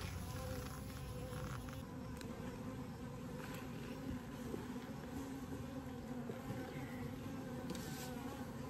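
Bees from a 24-frame horizontal Layens hive buzz as a steady, faint swarm drone throughout, with no voices over it.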